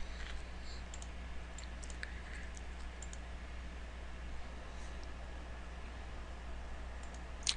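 Computer mouse clicks sound as checkboxes are selected in accounting software: faint, sparse, quick clicks scattered over a quiet background hiss.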